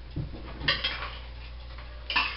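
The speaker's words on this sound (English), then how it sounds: "I'm going to take my Philadelphia cream cheese and I'm going to scrape that right in there" Spoon scraping softened Philadelphia cream cheese into a dish, a few short clinks and scrapes of metal against the bowl, close and fairly quiet.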